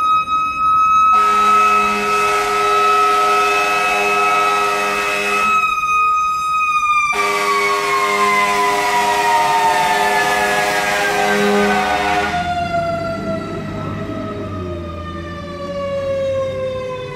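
A fire truck siren passing by, loud and close: a steady wailing tone with a brief gap, then a long falling pitch as it moves off into the distance.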